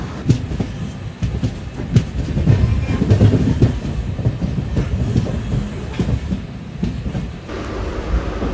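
A MEMU passenger train, number 07523, runs from Kakinada Port to Rajahmundry. From onboard there is a steady, close rumble of the carriage with rhythmic wheel clatter over the rails, and no talk.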